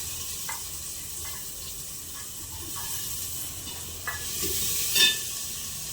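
Cumin and onion frying in a hot pan make a steady close sizzle, with a few soft stirring scrapes and a small burst of spitting near the end.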